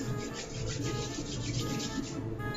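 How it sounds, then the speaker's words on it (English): Dried Italian seasonings rubbed between palms and sprinkled over chicken, a soft steady rasping and rustling, close and faint, continuing without pause. "I always put them in my hand and rub them as I'm sprinkling them."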